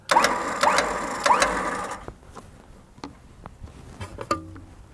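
A winch drum winds rope tight using a Red Winch plasma lock, giving three strong ratcheting mechanical bursts close by, followed by quieter clicks and creaks as the line settles under tension.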